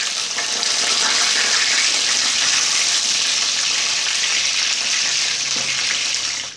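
Paper-wrapped chicken frying in a pan of hot oil, a loud, steady crackling sizzle that holds without a break, with faint stirring noises underneath.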